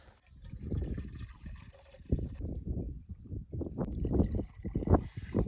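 Water is poured from a bottle into a pot set on a camping gas stove outdoors, giving irregular glugging splashes in uneven bursts at close range.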